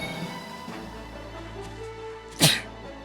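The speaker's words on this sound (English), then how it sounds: "Excuse me while I sneeze." A single sharp sneeze bursts out near the mic, loud and brief, over a steady backdrop of video game music.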